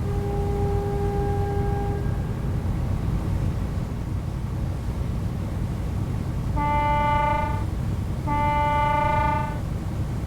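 A boat horn sounds in the fishing game Fishing: North Atlantic, a loud deep tonal honk held for about a second, given twice in a row over a steady engine rumble, with a fainter earlier horn note.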